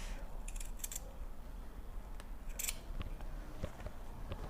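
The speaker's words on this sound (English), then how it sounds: "try not to cut your fabric" Scissors snipping through fabric while trimming a seam allowance on a sewn turtleneck, a few short crisp cuts spaced over several seconds, close and fairly quiet over a steady background hiss.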